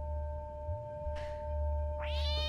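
A cat in the video game Stray meows twice, a short cry followed by a longer rising meow, heard close and clear over a low, steady game background hum.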